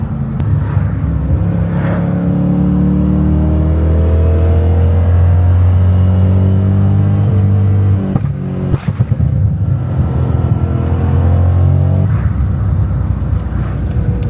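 A high-mileage BMW E90 M3 engine revs repeatedly, its pitch climbing and falling, with a quick burst of crackling exhaust pops in the middle, loud and close.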